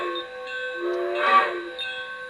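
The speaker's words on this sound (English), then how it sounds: "Give a couple of toots on the whistle." A chord-like model train whistle sounds in a couple of sustained toots at a railroad hobby show, bright and fairly close, with no talking.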